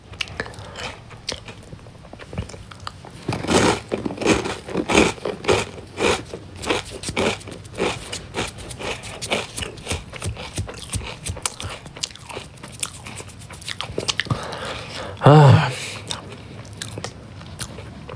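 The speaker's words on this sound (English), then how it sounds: "Let me chew a little bit more." A person chews and crunches food up close, with steady wet bites and crackly crunches throughout and a louder, sharper crunch near the end.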